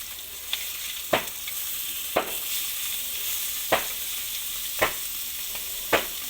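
Fish fries in a pan during village-style cooking, with a soft continuous sizzle and regular sharp clicks or scrapes every second or so, close and without talk.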